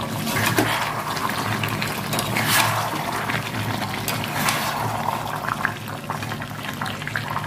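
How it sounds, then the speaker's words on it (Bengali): Chicken kosha with fried potatoes sautéing in a pan, a steady close sizzle and bubbling hiss with occasional stirring scrapes, continuous throughout. "এবার আমি এর মধ্যে দিয়ে দেবো ভেজে রাখা আলুগুলো, দিয়ে ভালো করে কষে নেব।"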